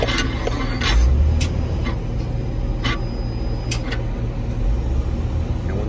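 Intake throttle valve on a Freightliner Cascadia with a DD15 engine, cycling with the ignition on and the engine off: soft mechanical ticks and brief clicks repeat over a steady low electrical hum, close by and fairly quiet.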